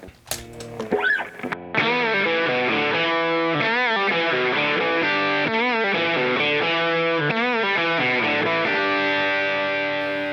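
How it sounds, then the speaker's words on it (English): Electric guitar played through a hard-clipping distortion effect, sustained saturated chords and bends ringing loud and alone after a brief pick attack, no voices. "Now push it a little bit harder, and that hard clipping becomes distortion."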